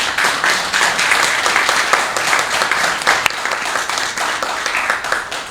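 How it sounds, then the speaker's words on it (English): A crowd at a Network of Champions event applauds city mayor Ulises Cabrera with lively, continuous clapping. Individual hand claps stand out within a full, sustained round that stays loud until the end. "big round of applause."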